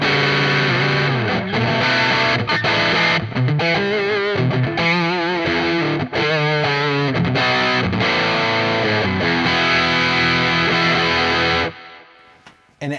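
Electric guitar run through a TC Electronic Booster+ line driver and distortion pedal, pushed to full gain, plays loud, thick, saturated chords and sustained notes for about twelve seconds before cutting off abruptly.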